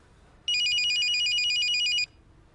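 A telephone rings with a bright electronic warbling trill, one loud burst of about a second and a half against a quiet room, with no voices.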